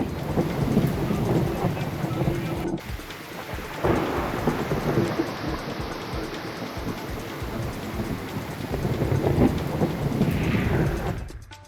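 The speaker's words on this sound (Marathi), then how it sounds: "राज्यातील अनेक भागांमध्ये पुन्हा अवकाळी पाऊस झालेला आहे." Heavy unseasonal rain pours during a thunderstorm, a loud dense roar of falling water with deep rolling thunder rumbling through it and a sharp crack near the start, steady and close, with no voices.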